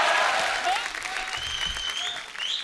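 Audience applause welcoming actor Sanjay Dutt onto a comedy show stage, a dense burst of clapping that swells at the start and carries on steadily, with cheers and whistles rising over it.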